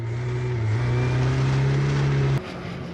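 Historic Formula Ford racing cars at Snetterton drone loudly in a sustained engine note that holds steady, then drops off sharply near the end as the car passes.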